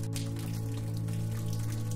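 Rain falls in a steady, dense patter with scattered drops, a continuous soft wash, alone and unbroken, with a low steady hum beneath.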